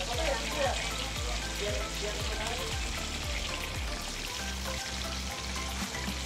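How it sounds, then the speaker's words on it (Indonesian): Steady crackling sizzle of chicken frying in hot oil, loud and close, continuing throughout with faint background voices. "Goreng ayam pelan-pelan."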